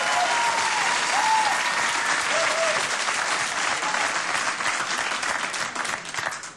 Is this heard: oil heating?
no